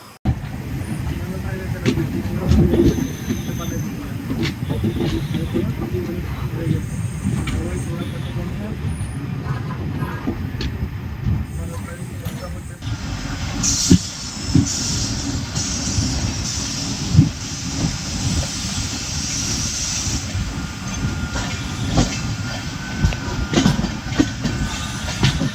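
Inside the Pamban Express with LHB coaches on the Rameswaram to Tambaram run, a continuous loud rumble of wheels on rails with clickety-clack joints and faint squeals, while someone talks over it.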